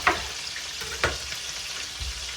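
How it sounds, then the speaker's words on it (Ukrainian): Pork ribs frying in a pan, a steady close sizzle with a few sharp crackles and pops, and no voices. "Доки ребра смажаться"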